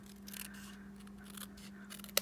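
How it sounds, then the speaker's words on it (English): Paper snips cut card stock in straight lines, a brisk run of crisp, close snipping strokes over a steady low hum, with a sharper click at the end. "this is easy fussy cutting with your paper snips, since it's just straight lines"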